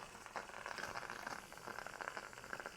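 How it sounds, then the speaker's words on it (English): Portable steam cleaner starting up, sputtering and spitting bursts of water and steam in an irregular crackling, bubbling rhythm, close and fairly quiet with no talk over it. "when you first turn it on, it is gonna have a little bit of water that shoots out"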